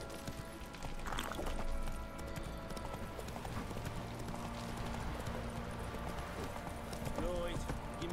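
Horse hooves clip-clop in a busy outdoor scene after a rider urges the animal on, a steady rhythmic clatter running under background noise, with a brief whinny and voices talking nearby.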